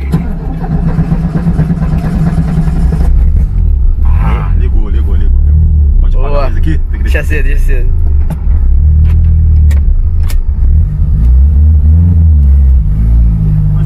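A flooded car engine cranks and turns over, then idles with rumbling revs while people talk nearby in a continuous loud hum.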